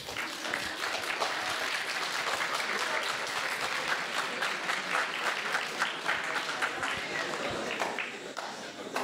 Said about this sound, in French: On applaudit ceux qui ont compris la question, ou entendu la question